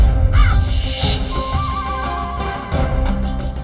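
A crow caws repeatedly in an old mansion setting, loud harsh calls close by over a busy background, no speech heard.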